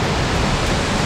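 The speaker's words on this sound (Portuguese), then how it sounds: "Essa aqui é a penúltima cachoeira, Cachoeira Pai." Cachoeira Pai, a tall waterfall in Sana, Macaé, pours in a steady, dense roar of falling water, broadband and constant, close and loud with no talk over it.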